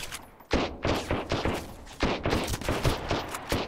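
Pistol gunfire in the survival game Sunkenland, a string of sharp shots in irregular, rapid bursts, about ten distinct cracks spread across the stretch, loud and close.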